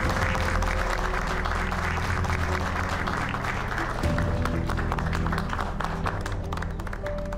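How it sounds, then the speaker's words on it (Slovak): Large audience at a gala welcoming an honored guest with loud, sustained applause, a dense wash of many hands clapping at once while music plays underneath. "Prosím, veľký potlesk."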